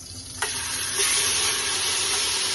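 Scotch bonnet and habanero pepper mix with ginger, garlic and onion hitting hot oil in a pot for jollof rice, a sharp burst of sizzling that jumps louder partway through and keeps up a steady, close crackle.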